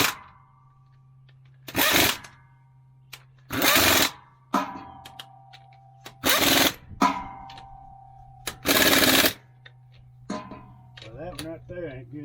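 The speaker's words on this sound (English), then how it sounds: "Now I'm just gonna take the air gun." A pneumatic air impact gun tightens bolts on a Detroit 12V71 engine in terrible condition after sitting for years: four loud, rattling bursts of about a second each, separated by a low steady hum and small clinks.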